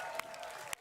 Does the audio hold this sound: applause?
yes